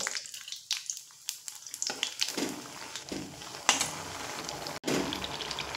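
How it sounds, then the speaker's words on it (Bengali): Bori lentil dumplings frying in hot refined oil, an abrupt close crackling sizzle that swells into a dense steady hiss with sharp pops and stirring clatters, no voices. "এবার এখানে বড়িগুলো ভেজে নেব"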